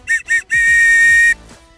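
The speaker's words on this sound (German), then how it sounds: "Dann haben wir hier die Pfeife," A whistle on a life jacket blown three times, two short shrill toots followed by one longer sustained blast, loud and close.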